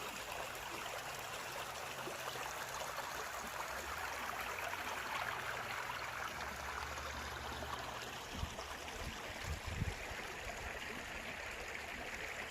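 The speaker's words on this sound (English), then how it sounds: "There's the creek" A creek in the woods flows with a steady, soft rushing and trickling wash, continuous and even, with a few faint low bumps near the end.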